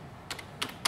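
A login typed on a computer keyboard: three short bursts of close key clicks spaced across a second, over a quiet room hiss.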